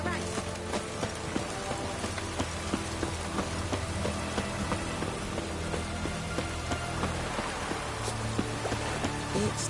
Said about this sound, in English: It's raining, of course.